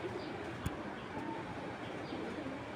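Racer pigeons coo softly inside a loft, with low burbling calls over a steady background hiss and a brief sharp knock partway through.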